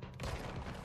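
Gunfire in the video game Control, a brief dense burst of rapid shots filling the moment, loud and continuous with no talking.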